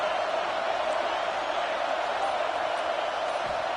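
Stadium crowd in the college football video game NCAA 26, a steady, dense roar of many voices urging on the defense that holds at an even level throughout.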